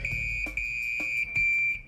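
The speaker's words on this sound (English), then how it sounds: "And he's got this special alarm" A firefighter's special alarm for calling for help sounds a loud, steady high-pitched electronic tone that runs through the whole stretch, with a few brief clicks and knocks underneath and no talking.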